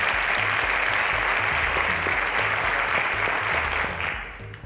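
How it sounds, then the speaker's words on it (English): Studio audience at a televised quiz show gives a contestant a steady round of applause, dense and sustained before easing off slightly at the end. "A round of applause to Tobiloba."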